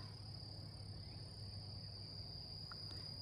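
Early-morning late-spring garden alive with insects, a steady high-pitched chirring drone held evenly throughout, faint and continuous over a low ambient hum.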